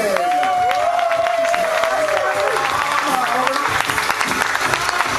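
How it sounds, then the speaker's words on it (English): A crowd at a pop star contest final applauds and cheers for a female contestant, steady broad clapping with whoops running throughout, while a voice carries over the top. "please a nice big round of applause for Catherine!"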